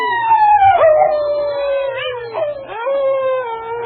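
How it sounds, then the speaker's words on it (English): A dog named King lets out a long, wolf-like howl: sustained, wavering tones that slide downward and rise again, clear and close. No other sounds intrude. "Start howling like a wolf."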